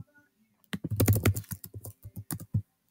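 Fingers type a short entry on a computer keyboard, a close, crisp cluster of rapid key clicks followed by several spaced individual taps, after a near-silent start.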